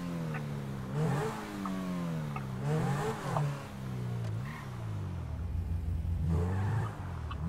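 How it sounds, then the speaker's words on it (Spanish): Distant motorcycle engines in the game GTA V rev and fade several times at a moderate distance, pitch rising and falling in sweeping passes. "Me caga esos pinches sonidos de moto de la lejanía"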